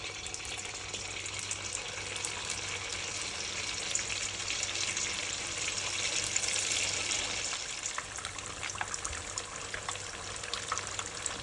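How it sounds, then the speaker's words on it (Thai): Vietnamese spring rolls with fermented pork deep-frying in a pot of oil give a steady, dense sizzle and crackle that holds evenly throughout, close and moderately loud, with no one speaking. "เขาก็ไปตั้งหม้อน้ำมันทอดกันเลยเอาแหนมที่เราลงไปทอดเลยเนาะ"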